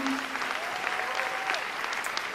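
A church congregation claps together at a worship service, a dense, even burst of applause filling the room for a couple of seconds, with a faint voice tone underneath.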